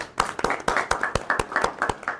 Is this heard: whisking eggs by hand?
no